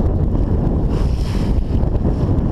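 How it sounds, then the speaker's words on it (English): Strong wind buffets the microphone while sailing on Lake Erie over rolling waves, a loud, steady low rumble with gusty swells and water wash beneath, no voices. "Winds have stayed about the same."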